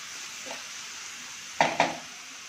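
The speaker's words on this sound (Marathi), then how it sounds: "मसाले घालून चांगलं मिक्स करून घ्यायचं।" Spices stirred into matar paneer bhurji in a pan: a soft sizzle under two sharp scrapes of a spoon against the pan near the end, no voices.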